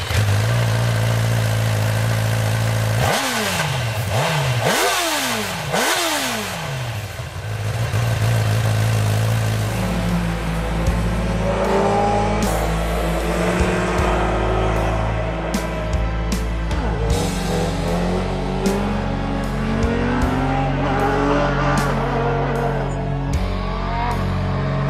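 A Honda CB1000R motorcycle engine revs sharply several times in quick bursts, then settles into a loud, uneven idle with occasional blips, close by.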